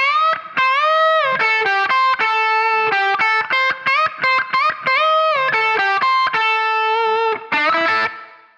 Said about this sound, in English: Coming out of that section, we have this really cool lick.